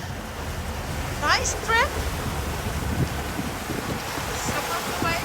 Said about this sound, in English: Some of the waves are big, but most of them are quite okay.